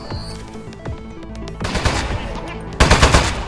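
Gunfire in the Aperture Desk Job video game on Steam Deck: scattered shots at first, then dense rapid bursts of automatic fire that grow louder toward the end.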